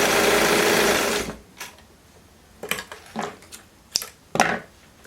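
A sewing machine runs in one loud, steady burst while stitching a gymnastics skirt, then stops, leaving a few soft clicks and handling taps of fabric close by.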